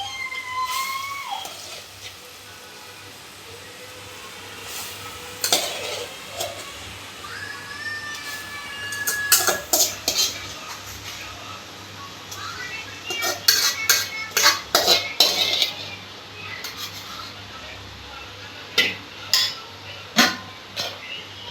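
Fenugreek leaves are stirred in a cooking pot while making methi shaak, with scattered metallic scrapes and clinks of a spoon against the pot over a low steady background, in bursts of louder clattering.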